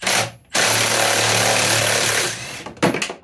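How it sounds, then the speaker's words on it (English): A loud impact wrench rattles in a sustained burst close by, stops, then fires again in a short choppy bout while removing the chain case on a Polaris 850 Axys snowmobile. "now I'm gonna take it and use the power tools"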